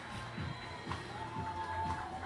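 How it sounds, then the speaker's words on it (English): Crowd at a professional ultimate frisbee game between DC Shadow and Austin Torch, a loud steady roar of cheering and shouting with rhythmic stomping or clapping bursts about every half second. "Crowd noise is loud."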